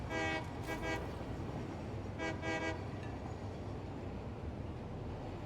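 Locomotives running in the video game Satisfactory, with two separate bursts of a train horn tooting over a steady rumbling rail background, moderately faint and with no talk.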